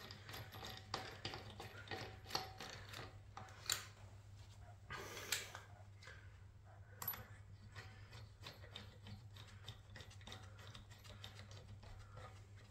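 Wheel nuts on a Jaguar XK (X150), including a locking nut, are tightened with a ratcheting tool, producing faint, quiet rapid clicks and occasional metallic clinks over a low background hum.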